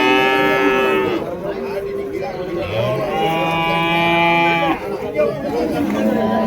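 Cattle moo loudly and repeatedly at a crowded livestock market in Vaniyambadi with many large bulls, long drawn-out calls overlapping one another over steady crowd chatter and people talking nearby.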